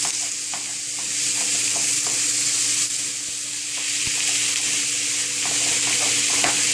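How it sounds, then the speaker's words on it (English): Ground beef sizzles in a hot pan over medium heat, a loud, continuous frying hiss with scattered small pops and crackles throughout. "Now I have added the ground beef. I put it on the hot pan. It's on medium heat right now."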